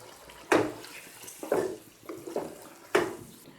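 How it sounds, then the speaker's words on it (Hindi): Water is poured from a cup into a pot of mutton and carrot curry, giving a few separate splashy pours and sloshes, close and fairly quiet, with no speech. "इसके अंदर सिर्फ मैं आधा कप पानी ऐड कर रही हूँ।"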